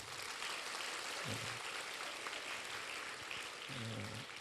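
Congregation members in a Korean church service give a faint, distant round of clapping that blends into a soft, steady hiss, with a couple of low murmurs underneath.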